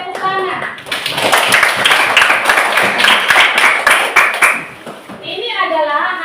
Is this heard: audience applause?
yes